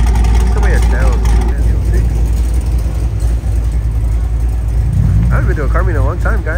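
A Corvette engine rumbles loudly and steadily at a car meet, a deep continuous drone close by, with people talking over it throughout.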